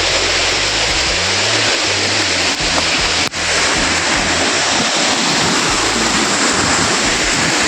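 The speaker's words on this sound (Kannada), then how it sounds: "ನೋಡಿ, ಇರ್ಪು ಫಾಲ್ಸ್ ಸ್ಟೆಪ್ಪು ಇಲ್ಲಿಂದ ನೀರು ಬರ್ತಾ ಇದೆ." Iruppu Falls in the Brahmagiri Hills pours down with a loud, unbroken rush of water, a dense close roar filling the whole scene without pause.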